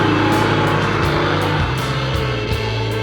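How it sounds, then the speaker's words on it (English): A carbureted V8 in a Ford Mustang running close and loud, a rough, throbbing idle with a few quick rises in revs and nothing else over it. "It sounds good. Nothing like a carbureted V8"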